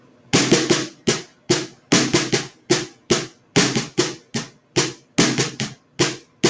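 Crisp drum strokes in quick, evenly alternating groups, played alone with short gaps between bursts, close and fairly loud.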